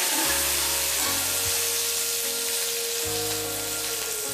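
Chana dal and curry leaves fry in hot oil, a loud, dense, steady sizzling hiss close up, with a faint low hum underneath and no talking.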